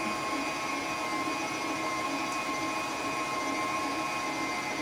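A stand mixer fitted with a dough hook kneads dinner roll dough, giving a steady, even motor whir with a constant hum that does not change.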